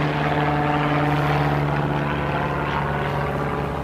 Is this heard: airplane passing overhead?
yes